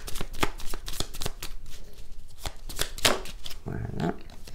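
Oracle cards shuffled by hand for a monthly reading, a run of crisp riffling flicks and soft slaps up close, with a faint voice murmuring in the background.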